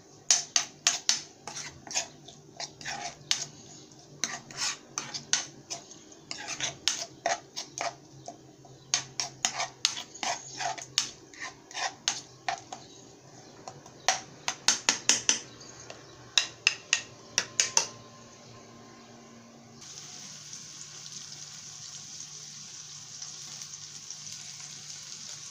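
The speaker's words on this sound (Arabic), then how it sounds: "دابا غادي نصوطي هاد مزيان مع الثومه" Meat sautéing with garlic in a pan for a head-meat pizza, with repeated sharp utensil scrapes and clatters over a steady sizzle. A continuous frying hiss grows stronger near the end once the scraping stops.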